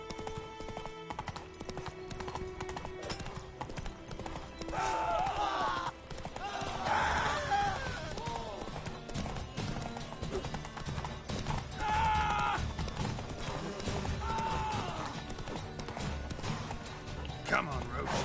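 Roach, a horse in The Witcher 3 video game, trots with steady clip-clop hoofbeats and a brief whinny, set against game music and ambience while someone talks over it.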